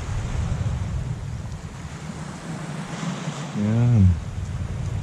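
Water of a river in Lobo, Batangas flows as a steady broadband wash with wind noise on the microphone, and a short voiced sound rises briefly near the end.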